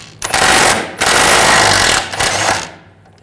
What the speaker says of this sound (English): We're going to use a 18mm wrench, 18mm socket on the nut.